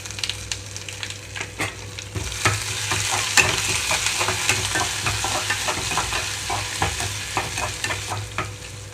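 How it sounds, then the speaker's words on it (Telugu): Tempering seeds, dried red chilies and crushed ginger-garlic paste sizzle in hot oil for a cabbage and chana dal fry, a close crackling hiss broken by frequent sharp spatula scrapes and stirring knocks, with no voices. "ఆయిల్ అంతా హీట్ అయిన తర్వాత తాలింపు గింజలు అలాగే ఎండుమిరపకాయలు వేస్తున్నాను"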